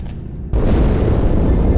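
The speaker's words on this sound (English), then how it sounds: "That explosion came from inside the Athens, same as the Malta." An explosion in the Halo 2 video game hits as a sudden, heavy, low boom that swells into a sustained loud rumble, with no voices.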